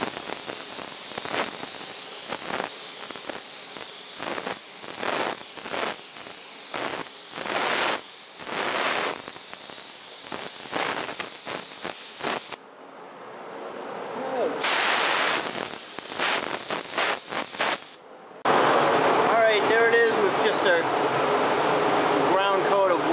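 Bursts of hissing spray from a paint spray gun, some short and some sustained, with brief pauses between passes and a steadier stretch near the end.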